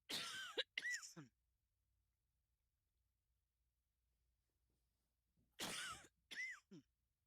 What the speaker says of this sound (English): Apologize for my coughing